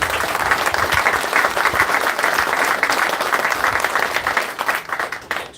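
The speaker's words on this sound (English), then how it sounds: "Give yourself a round of applause." Steady applause from an outdoor audience at a habitat restoration project groundbreaking ceremony, a sustained crowd of clapping hands at even volume throughout.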